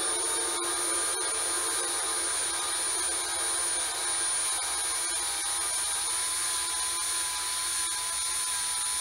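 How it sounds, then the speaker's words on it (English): Grinding compound rubbing as an engine valve is lapped against its seat in a GT40 cast-iron cylinder head, a steady close scraping hiss with faint rhythmic strokes and occasional sharp clicks. "and we can grind it a second time. Until it gets quiet."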